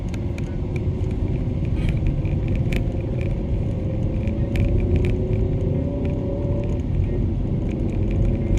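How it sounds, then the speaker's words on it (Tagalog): A car passes along a road, a low rumbling engine swelling and fading under steady background noise, with faint crackles and no talk. "Dito yung isang kotse."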